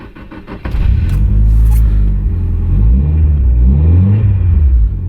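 A Nissan 200SX S14a engine cranks briefly, then catches and settles into a loud, close idle with low rumbling and slight wavering revs.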